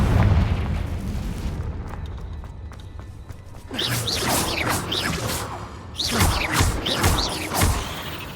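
Spell explosions in the video game Hogwarts Legacy, including the Confringo blast: loud booms and crackling bursts over a low rumble, with a quieter clicking stretch before dense, repeated impacts and fiery sweeps.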